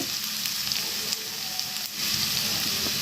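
Tempering of spices with asafoetida and grated ginger frying in hot oil for curd vada, a steady close sizzle with a few faint clicks, swelling slightly louder near the end, no voices.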